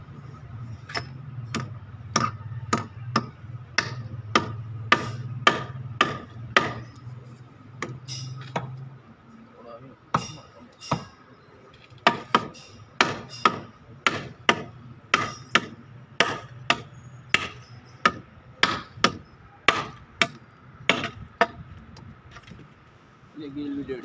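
Bamboo poles being hammered during shed construction, a long run of sharp, regular knocks, some in quick pairs, close and loud over a low background hum, with a brief pause partway through.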